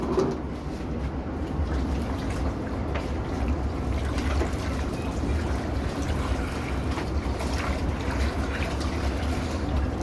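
Water poured onto wanda cattle feed to soak it, a steady low wash and trickle of liquid running continuously and fairly quietly throughout, with no talk over it.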